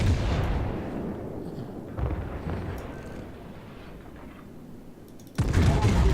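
The battleship Wyoming fires its guns in World of Warships, a deep rumbling boom rolling on continuously with a fresh heavy blast near the end, with a voice talking over it.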